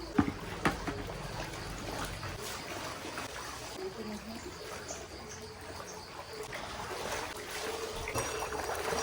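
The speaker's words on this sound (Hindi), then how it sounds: "फटाफट से ये मम्मी की साड़ी को फटाफट धो लेते हैं" A saree is washed by hand in canal water outdoors, with steady splashing and sloshing running throughout over faint background noise.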